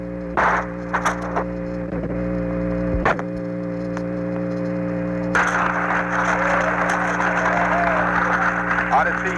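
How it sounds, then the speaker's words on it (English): Loud applause and cheering in Apollo 13 Mission Control at splashdown, heard through a crackly radio broadcast feed with steady tonal hum; clicks and crackles come first, then a broad surge of clapping swells and continues. "An extremely loud applause here in Mission Control."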